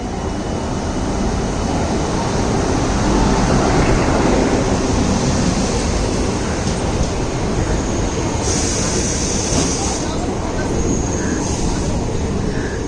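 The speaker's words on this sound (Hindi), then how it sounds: "और अभी आ रही है वास्को कुलेम पैसेंजर इन DEMU फॉर्म" A Vasco–Kulem passenger DEMU train arrives on the Konkan line in the rain, a loud steady rumble and rush of rail noise filling the whole scene, with faint brief voices.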